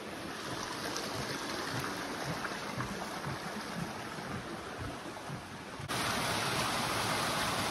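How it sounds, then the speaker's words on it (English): A small mountain stream in the Vermont woods on the Appalachian Trail near Bromley Mountain, a steady close rush of flowing water that grows slightly louder toward the end, with no voices. "Crossing a beautiful little mountain stream here this morning."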